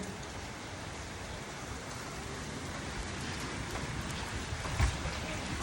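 Heavy typhoon rain pours steadily outside a resort during a power outage, a dense, continuous hiss and patter with no voices, briefly swelling with a slightly louder splash near the end.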